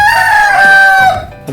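A Rhode Island Red or Jersey Giant chicken crows loudly and close in one drawn-out call, followed by a short, brief cluck as the young birds are let out.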